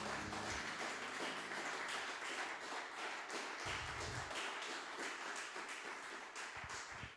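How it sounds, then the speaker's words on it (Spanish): A church congregation claps together after a prayer, a dense, steady wash of hand claps lasting several seconds with a few low thumps, moderately quiet and without talk. "Den un aplauso al Señor"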